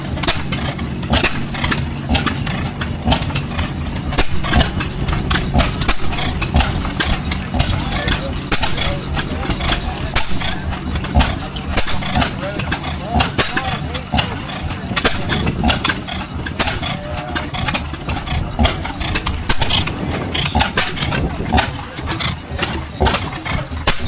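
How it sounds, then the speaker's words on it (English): A Cook Loco stationary engine at a tractor and engine show in Delaware, Ohio, starts up and settles into a loud, steady idle chugging, with people talking in the background. "Here we're gonna start this Cook"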